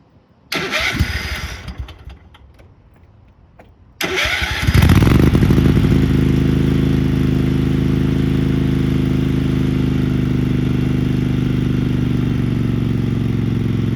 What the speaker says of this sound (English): let me start her up for you. This will be a cold start